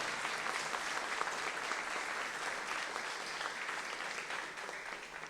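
A church congregation claps steadily and hard, a dense, continuous wash of applause that holds evenly throughout and fades slightly at the end.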